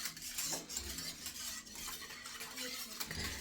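Eggnog with vanilla extract being stirred: quiet, close swirling liquid with soft spoon scrapes and taps against the bowl, faint and continuous.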